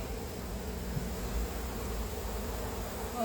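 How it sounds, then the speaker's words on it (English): Honey bees buzzing around hive frames during a honey harvest, a dense continuous hum of many wings close by, steady and moderately loud with no talk. "Oh, they're so cool. Look at those bees"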